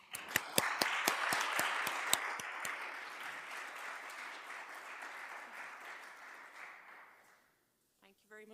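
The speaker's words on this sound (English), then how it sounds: "And a big applause for all the contributors now, but all the contributors in this day." An audience at an academic forum applauds, a dense burst of clapping with a few sharp claps up front that gradually fades out over several seconds before a voice begins.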